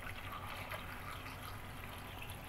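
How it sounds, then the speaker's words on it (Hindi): Water pours steadily into a container of cut lemons being covered for homemade lemon dish-washing liquid, a continuous close splashing and trickling with no talk. "अभी हम इसमें पानी डालते हैं।"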